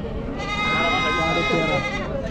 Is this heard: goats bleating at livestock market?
yes